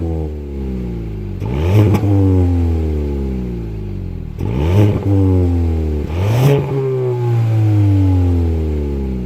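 A turbocharged Kia Ceed 1.5 T-GDI engine revs up three times in strong, rising bursts, each swell climbing in pitch before settling back to a steady, throaty idle.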